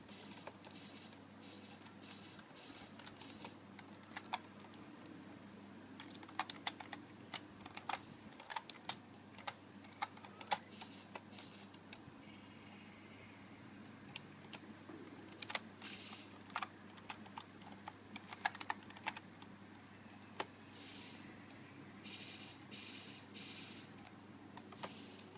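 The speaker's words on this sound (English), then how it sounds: "Pardon me, I'm typing." Rapid, irregular clicking of keys on a computer keyboard during a game party quest, with clusters of sharp taps over a steady low hum and no voices.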